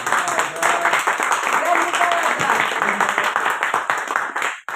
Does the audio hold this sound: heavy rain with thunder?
no